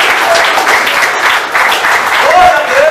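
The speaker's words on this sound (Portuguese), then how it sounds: "Pode aplaudir." A church congregation in Alto Vera Cruz, Belo Horizonte, breaks into steady, dense applause during a service, filling the whole stretch with a close, even clatter of hands while a voice rises faintly near the end.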